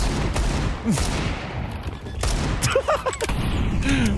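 Pistol fire in a Counter-Strike professional match, a quick scattered volley of sharp cracks with brief gaps between shots, interleaved with other game effects and faint voices.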